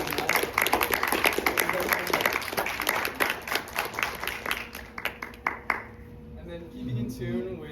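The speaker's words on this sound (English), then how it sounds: "let's give a big, big round of applause to our alumni" An audience applauds an alumni panel, with dense clapping that thins into scattered individual claps before fading out, after which a few quiet sounds follow.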